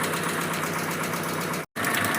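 A Proton Saga BLM engine idles steadily at close range with a loud, even running drone, broken by a brief dropout near the end before resuming; its revs have been unstable.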